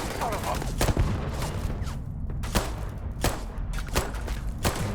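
Rapid gunfire from the sci-fi video game Starfield, a dense volley of sharp shots cracking over a constant loud combat din.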